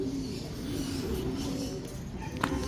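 Steady low cooing of racing pigeons in a truck, a continuous soft murmur from several birds close by, with a faint brief chirp near the end.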